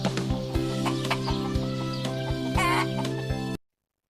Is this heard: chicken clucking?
yes